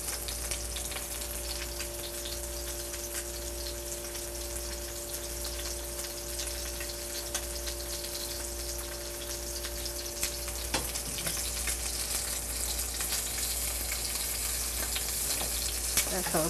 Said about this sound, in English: Let it sear for about 1 minute